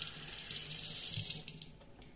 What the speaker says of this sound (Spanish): Le echo agua.